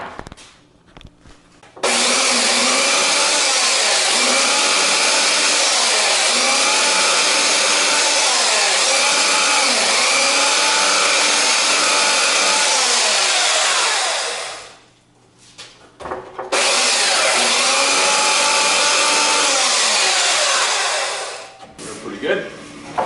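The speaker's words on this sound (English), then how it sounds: "We're going to take the belt sander now and sand those down flush" Belt sander grinding wooden dowels flush during a Delta Rockwell Model 1460 lathe restoration, a loud continuous whine that starts after a short pause, cuts off briefly near the middle, then resumes.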